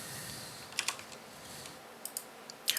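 Computer keyboard typing in a quiet room, with a few clustered bursts of light key clicks separated by pauses, faint and close.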